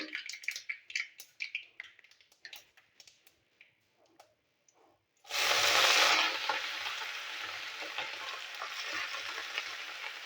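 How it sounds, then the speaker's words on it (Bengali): Radish greens dropped into a pan of hot oil with chillies and mustard seeds, a few seconds of soft clicks and rustles giving way to a sudden loud burst of sizzling that settles into a steady crackle. "মূলো শাকটা আমি পুরো দিয়ে দিই বন্ধুরা"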